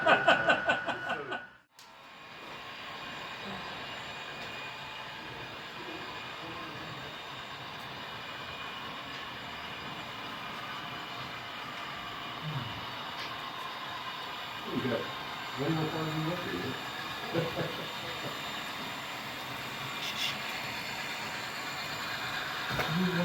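HO scale model train running along its track on a model railroad layout, a steady low rumble throughout with people talking briefly over it.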